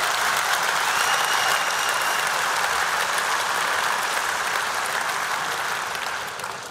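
Warm, sustained applause from a large audience at the opening ceremony of Rotterdam Centraal Station, a dense steady wash of clapping that stays loud throughout and only begins to fade slightly at the very end.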